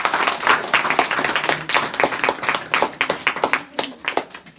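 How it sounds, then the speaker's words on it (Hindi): Audience applause for participants of a painting competition at a school event, a dense, sustained wash of many hands clapping throughout, fairly loud and close. "तो जितने भी प्रतिभागी ने प्रतिभाग किया है सबके लिए तालियां बजा दो एक बार।"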